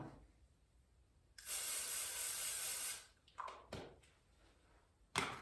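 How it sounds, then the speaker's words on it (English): Aerosol foot spray hisses onto a golf iron's club face in one steady burst of about a second and a half, close and loud, followed by a few short rustling handling sounds and a brief final spritz. "we're going to spray it onto the golf club head"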